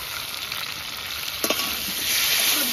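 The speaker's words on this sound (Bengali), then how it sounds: "এবার ভালো করে একটু ভেজে নেবো আলু আর ডাটা।" Potatoes and vegetable stems fry in oil in a pan, a brief, close, even sizzle that swells slightly louder toward the end, with a faint stirring knock partway through.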